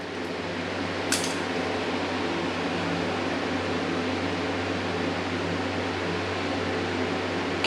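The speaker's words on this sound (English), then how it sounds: "I heard the PSU spool up" Mining rig power supply and cooling fans running as a steady broadband whir with low hum, constant and fairly loud throughout, after a brief click near the start.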